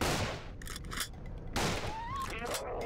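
Gunfire in the video game Nightmare House 2 comes as two harsh, loud bursts, one at the opening and one midway, with game noise and a brief whining tone between them.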